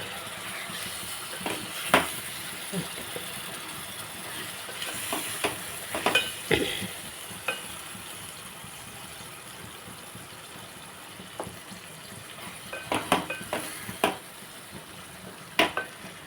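Egg is stirred into ridge gourd curry frying in a pan, giving a steady soft sizzle with irregular scraping strokes and a few sharper clicks of the spoon against the pan.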